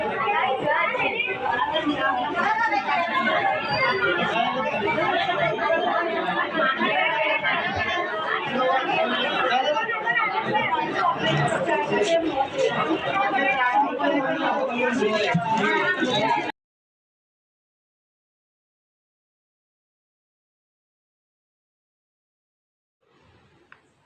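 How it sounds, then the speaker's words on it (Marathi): A dense crowd of people chatters loudly and continuously at close range, many overlapping voices forming a busy wall of talk that stops abruptly partway through, followed by near silence and a faint brief sound at the end. "हे बघा किती मरणाची गर्दी होती"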